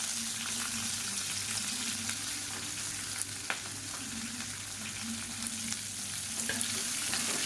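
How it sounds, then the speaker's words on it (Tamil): Chopped onions and green chillies sauté in hot oil in a pan for ragi idli, a steady close sizzle and crackle with faint stirring scrapes and no talk. "இது எல்லாத்தையும் நல்லா வதக்கிக்கலாம்."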